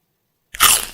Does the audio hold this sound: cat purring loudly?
no